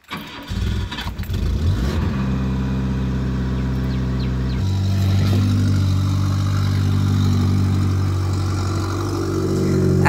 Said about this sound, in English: As you can hear, the exhaust is broken, so it's pretty loud.